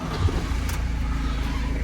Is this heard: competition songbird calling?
no